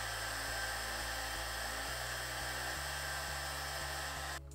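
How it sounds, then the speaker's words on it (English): A hair dryer blows with a constant, loud whooshing roar and an underlying motor hum, cutting off abruptly at the end. "I'm gonna go in with my hairdryer because I don't feel like waiting 10 minutes"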